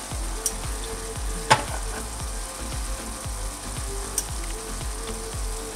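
Water poured into a hot casserole pan sizzles with a steady frying hiss, broken by a few sharp pops and crackles, close and continuous throughout, with no talking.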